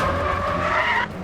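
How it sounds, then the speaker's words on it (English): Car tyres skidding in the racing game Need for Speed The Run, one loud sustained squeal with a rising tone and a touch of reverb behind it, cutting off abruptly near the end. "This is just the skids."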